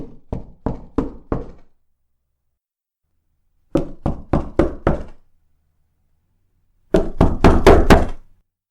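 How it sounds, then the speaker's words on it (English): Three sets of sharp knocks on a door, a series of four or five firm raps each, separated by pauses of silence, close and loud, the last set quicker and more insistent. "Then came the knock at the door."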